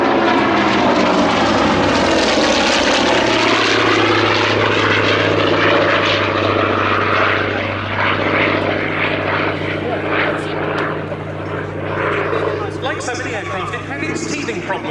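A Hawker Sea Fury (Fury II, SR661) piston-engine fighter flying at the Shuttleworth Fly Navy airshow, its loud droning propeller engine steady and near for the whole stretch while a voice talks over it.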